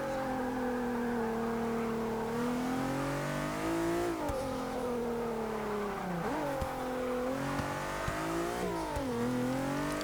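A 2014 Infiniti Q50 engine in Forza 6 revs hard and climbs steadily through the gears, its tone dipping at each shift before rising again. It stays loud, close and continuous, with no voices.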